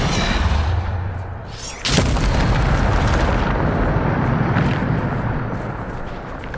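A Depulso force spell fires in Hogwarts Legacy, a sudden whooshing blast with a broad rumbling burst that swells and then trails off into a sustained noisy roar, loud and close.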